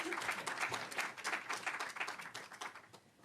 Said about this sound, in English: So please join me in giving a warm round of applause for Nancy.